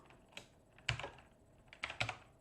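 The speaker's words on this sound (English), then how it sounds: "When using an Electron app, always spam the keyboard." Keys clatter on a computer keyboard in a few quick, irregular bursts of clicks, close and fairly quiet, with no voices.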